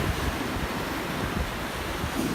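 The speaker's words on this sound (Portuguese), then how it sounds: "Ah, que marzão bonito, galera" Sea waves breaking at the shore in Akko, Israel, a continuous loud wash of surf mixed with gusty wind buffeting the microphone, steady throughout with no voices.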